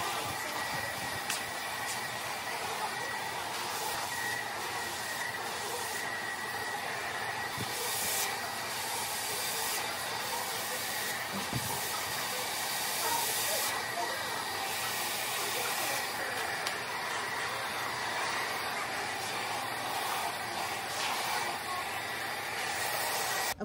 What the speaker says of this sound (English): Next step is we're gonna blow dry and do a few last checks on dry hair.